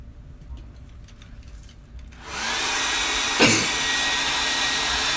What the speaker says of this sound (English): so get out my dryer